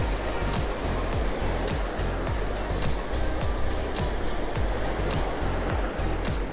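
Waves breaking on the shore at Cromer beach make a constant rushing wash, with low thumps of surf recurring at a quick, even rhythm throughout, near and fairly loud, without voices.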